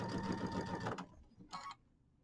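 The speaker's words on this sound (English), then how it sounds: "We're going to tie off, and then we're going to start stitching up the other side." Sewing machine stitching quilt binding on a mini quilt, a close, quick whirring run for about a second, then a pause and a second short burst of stitching, with no talk.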